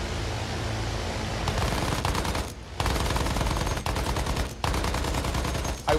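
Continuous heavy automatic gunfire in the video game Battlefield 1, loud and close, a rapid stream of shots with two brief pauses, sitting over a dense roar of battle noise.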